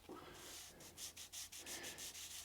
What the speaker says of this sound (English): I'm only going to very lightly sand in the grain direction